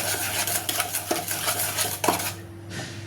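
Spoon stirring biscuit dough ingredients with a pinch of baking powder in a bowl, scraping and clinking against the sides in a steady run of close strokes, with a faint steady hum underneath.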